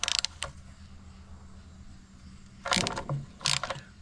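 A ratchet with a 9/16 socket works a bolt loose on a Harley Softail Evo, a short clicking burst at the start, then quiet, then two louder bursts of ratcheting clicks close by.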